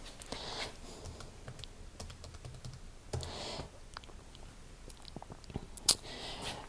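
Calculator keys tapped while entering numbers for a logarithm calculation, a run of quick, light clicks at an uneven pace with short pauses, one sharper press near the end, fairly close and alone.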